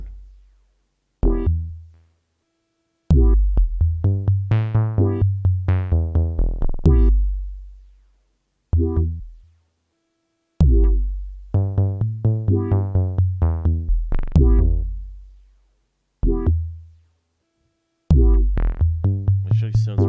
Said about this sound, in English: even a funny sounding little sound like this one will actually sound pretty cool through the delay pedal